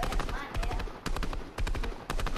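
Rapid gunfire in the Fortnite video game, a burst of repeated sharp shots arriving in several quick clusters, loud and close, with speech mixed in.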